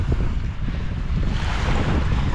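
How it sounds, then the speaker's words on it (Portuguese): Wind gusting and small waves lapping on an Amazon river beach at a campsite, a steady broadband rush with low rumbling buffets from wind hitting the microphone, no voices. "Aí, ó, tem até onda aí, ó."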